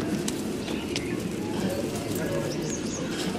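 A white-eyed female pigeon coos in low, muffled murmurs, partly buried under a voice and busy background noise.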